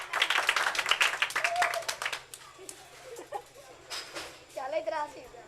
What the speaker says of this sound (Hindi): तो ये भरपूर तालियां होनी चाहिए बच्चों के लिए।